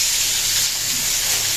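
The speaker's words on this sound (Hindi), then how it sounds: "और उसके बाद गाजर, बीन्स एंड कैप्सिकम को मैं अभी फ्राई करूँगी। उसको दे देते हैं तेल पे।" Carrots, beans and capsicum frying in hot oil, giving a loud, steady hissing sizzle that holds evenly throughout.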